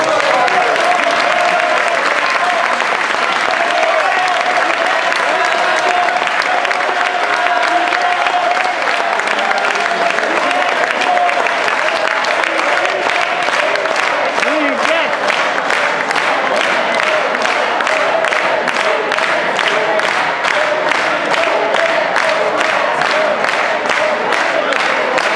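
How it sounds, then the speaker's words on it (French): Guests at a regional association's banquet in France applaud loudly and cheer for an honored couple, the dense clapping and voices filling the room and settling into a rhythmic, unified beat toward the end. "Vous pouvez applaudir Huguette et Robert Bassaler."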